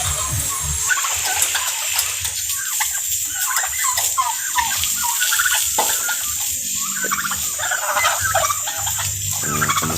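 Farm turkeys gobbling and clucking as they feed, a continuous chorus of bird calls close by, over a bright constant hiss, with chicken-like clucks mixed in.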